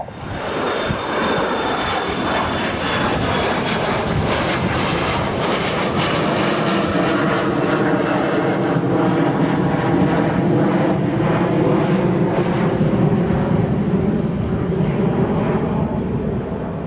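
Thomson Boeing 787 jet engines run during pushback and start at Bristol airport, a loud continuous roar with a rising whine that holds steady the whole time, with no voices.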